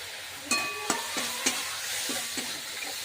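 Spices with salt, turmeric and chili powder sizzle in hot oil in a pan, a constant close frying hiss broken by several sharp knocks and scrapes of stirring.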